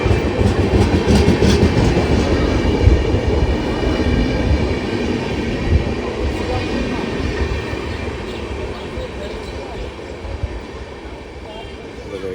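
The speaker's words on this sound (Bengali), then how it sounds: "ট্রেন বোধহয় ঢুকবে কিছুক্ষণে, ওখানে সব লোকেরা দাঁড়িয়ে রয়েছে।" A local train at a railway station gives a loud, steady rumble and rattle of rolling carriages that fills the whole stretch and eases slightly toward the end, with faint voices of waiting people underneath.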